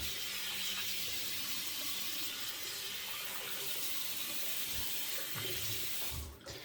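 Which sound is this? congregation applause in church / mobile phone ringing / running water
running water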